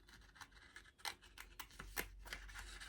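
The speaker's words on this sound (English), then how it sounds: "I'm going to cut very, very slowly. And just move my paper around. And my scissors stays in the same place as I very gently squeeze." Scissors slowly snipping paper in a quiet craft session, a series of soft, separate cutting crunches spaced irregularly, close and faint.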